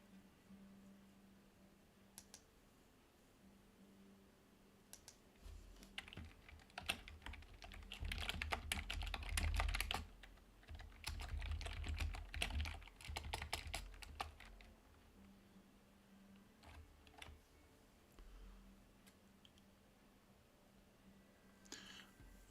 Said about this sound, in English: I think my keyboard's too close to the mic, and that's why you can hear me typing like loud as hell.